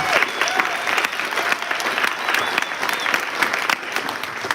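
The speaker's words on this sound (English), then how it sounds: "everybody give them a round of applause for being on this volleyball team" Sustained applause from a crowd at an athletic awards banquet, steady and fairly loud throughout with dense overlapping claps and some cheering mixed in.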